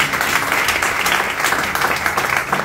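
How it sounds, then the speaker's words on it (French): A church congregation at a French-language worship service breaks into loud, sustained applause acclaiming Jesus, a dense wash of clapping with faint cheering and voices mixed in. "Acclamons Jésus pour ça."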